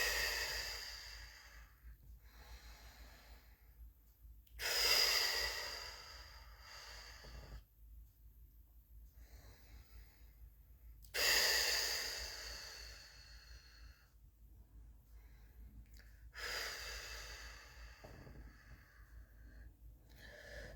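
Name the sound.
breathing in through the nose and out through the mouth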